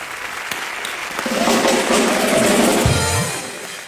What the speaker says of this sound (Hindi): तो एक बार तालियां हो जाए मल्लिका के लिए।